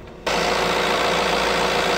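A Fiat 1.6 Multijet diesel car engine turns over and settles into a steady idle, loud and close, after a brief quiet moment at the start.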